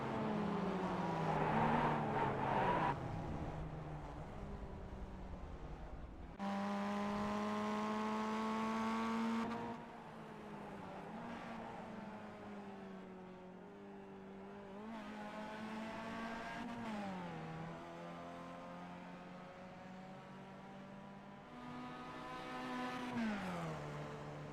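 Race cars lapping the VIR South circuit in iRacing during a ChampCar endurance race. Loud, steady engine drones rise and fall through gear changes, with several cars passing close by and some revving hard out of corners. No one speaks.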